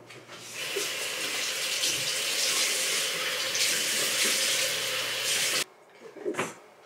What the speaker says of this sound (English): And now I'm just going to rinse it all off.